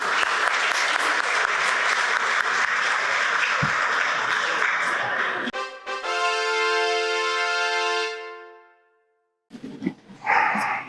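Audience applause at a Bible quiz competition, dense clapping that carries for several seconds before giving way to a sustained electronic tone, a brief silence, and then a short burst of other sound.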